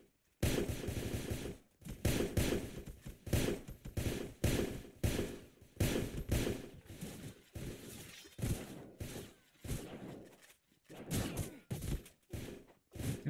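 Video game gun firing in rapid automatic bursts, dense rattling volleys with short gaps between strings of shots, fairly quiet overall and mostly without talk.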